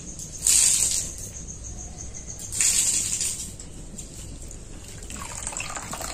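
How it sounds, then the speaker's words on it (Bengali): Water draining from freshly strained chhena (fresh cheese curd) while making sandesh, heard as two short splashing pours followed by softer trickling and dripping, close by with no talking. "এই জলটা এইভাবে কিন্তু আমি ঝরিয়ে নেব"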